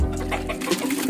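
A pigeon gives a short, low soft coo at close range, brief and muffled against a faint background hum.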